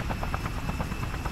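A helicopter flies in the video game Just Cause, its rotor thumping in a quick, steady rhythm for just over a second, loud and close with no talk over it.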